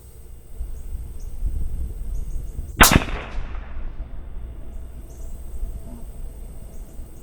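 A single sharp rifle shot from a .308 Gen II firing Winchester XP hunting ammunition cracks loudly at close range, with a short decay trailing off over quiet outdoor ambience.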